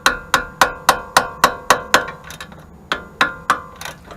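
Rubber mallet striking a wrench to break loose a lower control arm bolt on a MKV Rabbit or Jetta, a rapid series of about a dozen sharp, ringing metallic knocks, close and evenly paced with a brief pause midway.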